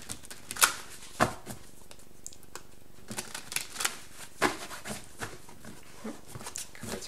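Tarot cards being shuffled and handled in a series of quick papery riffles and slaps, the loudest bursts near the start and middle with softer rustling between, close and fairly quiet with no talking.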